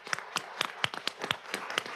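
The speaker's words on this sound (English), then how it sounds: "Let's give them a round of applause." Sparse, scattered claps from a small group at a county commission meeting, saluting a school advanced band, a few distinct hand claps spaced irregularly and fairly quiet.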